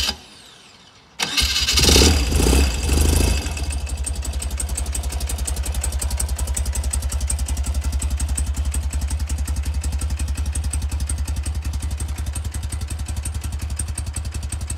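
A restored BMW R80G/S Tuareg motorcycle boxer engine, running on mineral 20W50 oil, cranks with a loud clattering thump, catches after a few seconds and then settles into a steady, close, even-pulsed idle with no talking.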